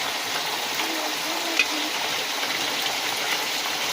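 Spice masala and gondhoraj chicken frying over a low gas flame, a steady soft hiss and sizzle with faint stirring scrapes, even and continuous throughout with no voices.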